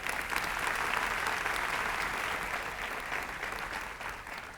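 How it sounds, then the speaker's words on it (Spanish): A church congregation applauds for its pastors, steady dense clapping filling the room throughout, holding at a constant level before tapering slightly at the end. "que quiero que le demos un aplauso."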